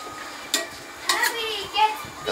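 Papaya curry with minced pork being stirred in a pot, with a few quick scraping clinks of the spoon against the pot over a soft simmering bubble, close by, with a voice in the background.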